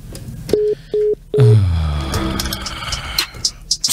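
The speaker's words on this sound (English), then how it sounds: "Alright, so we will try to establish contact to Phrimpong once again. The phone's not helping us this morning" A phone call is dialed: three evenly spaced keypad tones beep in quick succession, then a louder burst of line noise and clatter follows, with scattered clicks toward the end.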